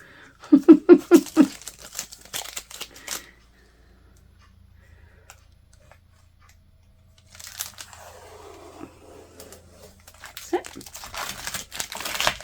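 Adhesive tape is handled while decorating a yellow trinket tray, with a quick run of loud crinkles and snaps at the start, then later rustling and a rip-like burst close by after a long quiet stretch.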